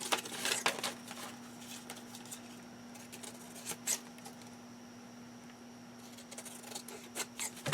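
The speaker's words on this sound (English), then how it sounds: "I'm gonna cut this out." Scissors snip through paper for a junk journal in a few faint, close cuts, clustered at the start and end over a steady low hum.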